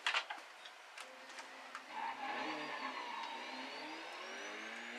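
A car engine in a racing game revs and accelerates, a mid-pitched engine rising in tone after a few opening ticks and clicks, steady and moderately quiet.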